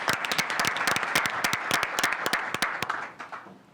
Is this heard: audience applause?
yes